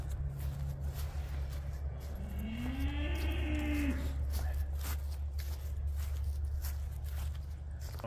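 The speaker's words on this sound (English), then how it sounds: "Time to go feed the cows because they're bawling." A single drawn-out Highland cattle bawl rises and falls over a steady low engine hum, with faint rustling and footsteps nearby.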